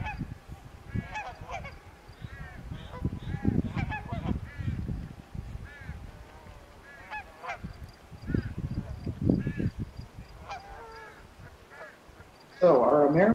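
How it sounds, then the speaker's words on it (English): An American crow gives a series of harsh, repeated caws outdoors, moderately close, with a louder burst of calls at the end. "American crow."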